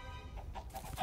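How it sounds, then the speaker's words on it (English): A small chicken in Minecraft: Story Mode gives a few soft, brief clucks over a low background hum, faint and close. "Is that a little chicken?"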